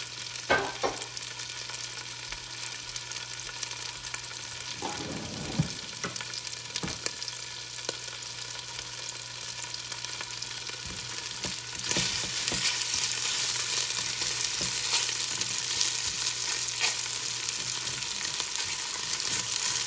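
Beef sizzles and fries steadily in a pan, a close, continuous crackling hiss that grows louder partway through, with occasional stirring knocks and no talking.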